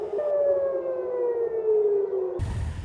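An air raid siren wails in Israel, one long loud tone slowly falling in pitch for over two seconds before cutting off abruptly into a burst of broadband noise.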